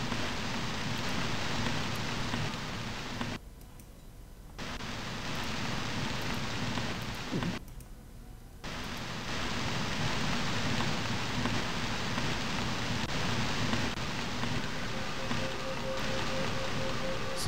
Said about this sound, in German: Es regnet Feuer.